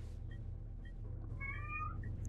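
Cats meow a few times in the horror video game Cry of Fear, short faint cries over a steady low droning hum.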